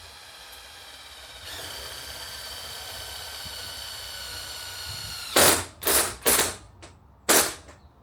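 Self-drilling tek screws driven through metal sheeting for a wood-fired oven build: a whirring drill hum, then four loud, short bursts of driving close by, separated by brief pauses.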